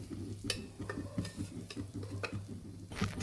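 Semolina roasts in ghee over low heat, a quiet, even rustle of the grains punctuated by a steady rhythm of spoon-on-pan scrapes and light taps, with no speech.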